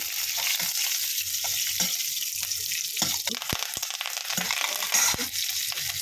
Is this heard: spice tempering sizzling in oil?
yes